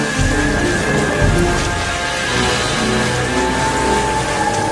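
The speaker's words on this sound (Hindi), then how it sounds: "अब की बार इतना तेज बारिश आ रही है कि गांव में बाढ़ आ गया है।" Heavy rain falling during a village flood, a dense steady hiss of drops with low rumbling underneath, continuous and fairly loud with no talking.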